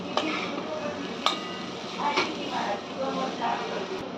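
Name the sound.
stirring jackfruit vegetable curry in a pan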